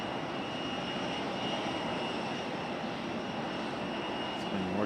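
An airplane at Raleigh Durham airport produces a steady, broad engine roar, a continuous distant rumble that holds evenly without pauses and carries no audible speech.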